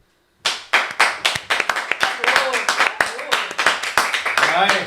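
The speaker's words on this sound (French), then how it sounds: "je m'applaudis" A talk-show host claps for himself, a run of sharp, close hand claps in a steady rhythm that starts abruptly and keeps going, mixed with his talking and laughter.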